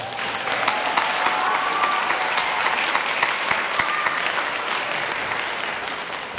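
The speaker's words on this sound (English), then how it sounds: "band students, let's give your parents a round of applause" Grade 8 band students give their parents a round of applause at a school spring concert, sustained, even clapping from a large group filling the room.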